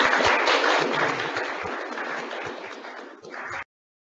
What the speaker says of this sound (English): Members, please give the Deputy Lord Mayor an applause.